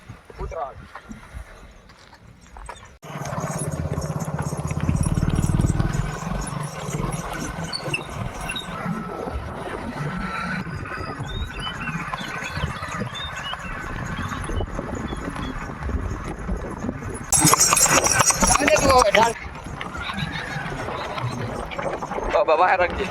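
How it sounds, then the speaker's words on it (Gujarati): A mare's hooves clip-clop as she is driven across open ground on a farm, a steady plodding rhythm under wind and vehicle noise, with a person talking over much of it. "ઘોડી હાકી લીધી છે અને હું અહીંથી થોડક સુધી હાંકવાનો"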